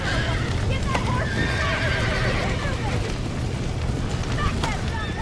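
In Red Dead Redemption, a horse whinnies over steady wind and clip-clopping hooves, with voices talking underneath throughout.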